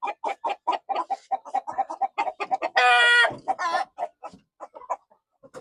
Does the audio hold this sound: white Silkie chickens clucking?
yes